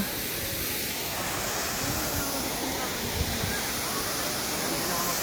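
Tangadan Falls in La Union, Philippines, roars as a steady, broadband rush of falling water, loud and unbroken, with voices faintly audible in the background.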